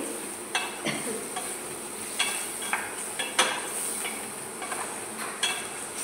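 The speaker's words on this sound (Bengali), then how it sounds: "দিয়ে এটাকে ভালো করে নাড়াচাড়া করতে হবে।" Biryani masala with yogurt is stirred in a pan for egg biryani, a spoon scraping and tapping the metal in scattered strokes over a soft, steady sizzle.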